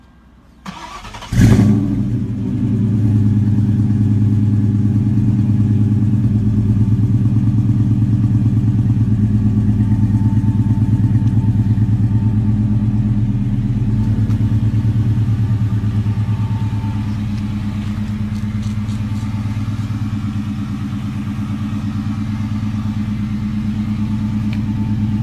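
A 2002 Ford Mustang GT 2V with a 5-speed and about 150,000 miles cranks over briefly, fires with a sharp burst, then settles into a loud, steady, deep V8 idle that drops slightly in level later on.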